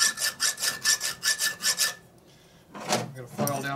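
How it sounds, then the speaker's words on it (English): Hand file rasping burrs off a motorcycle pinion shaft keyway on an Evo Sportster lower end, about eight quick rhythmic strokes close up, a pause, then a few more scrapes. "I'm going to file down this burrs here on the pinion shaft where the keyway is all screwed up."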